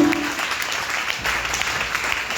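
A church congregation applauds in a continuous, dense patter of many hands, steady and fairly loud throughout, with no talk over it.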